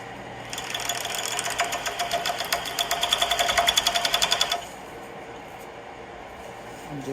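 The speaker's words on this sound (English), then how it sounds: "now I'm back at the serger, and I'm gonna serge around that cuff" A serger runs around the cuff of a flannel shirt, giving a rapid close mechanical stitching rattle that lasts about four seconds and then stops, leaving a quiet background.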